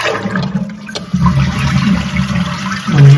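A Kohler Rosario 3434 toilet flushes with its flapper raised: a close, loud rush of draining water that swells and churns for a few seconds, then surges again toward the end.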